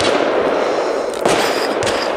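At a fireworks demonstration in Nürnberg, a 35-shot fountain sprays loudly and steadily, a dense hissing, crackling roar close by with a couple of sharper pops standing out.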